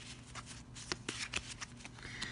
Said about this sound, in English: Shuffling these blue-backed ambassador cards.